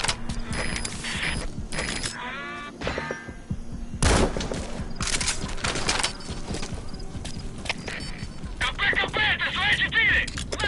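Rapid bursts of gunfire from Metal Gear Solid V: The Phantom Pain crackle loudly and repeatedly across a busy battle mix, with shouted voices and mechanical clatter mixed in.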